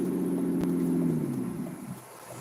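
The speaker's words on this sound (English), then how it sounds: "That's a very nice rattling sound." A BMW with a straight pipe exhaust rumbles and rattles low and loud under hard throttle while driving, then eases off and fades slightly near the end.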